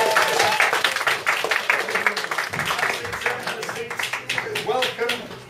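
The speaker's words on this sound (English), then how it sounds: "Round of applause for this gentleman." An audience at a comedy gig gives a round of applause for a gentleman brought up from the crowd, a busy burst of clapping that comes in uneven waves, with voices mixed in.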